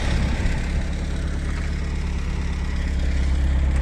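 A used car's engine idles at close range with a steady low rumble and drone. The level stays even throughout and no voices are present.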